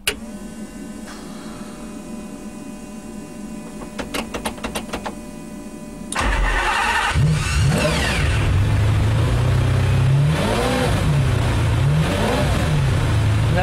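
Race-spec Ferrari Enzo or McLaren F1 supercar with its sound deadening stripped out, powering up its switches and fuel pumps, then the engine firing and revving loudly and steadily, with repeated rising and falling throttle blips.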